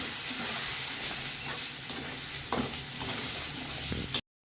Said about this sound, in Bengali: সুন্দর করে মশলাটা আমি এবার কষিয়ে নেব।